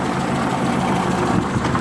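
A small car engine idles steadily, a constant low rumbling drone with faint vibration, close and even throughout, with no voices over it.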